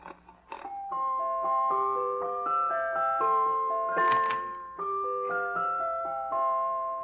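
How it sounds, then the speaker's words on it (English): A jack-in-the-box toy plays its tune, a bright tinkling melody of clear stepping notes that runs steadily for several seconds at moderate volume, with no voices over it. "Well, it's a sort of a jack in the box."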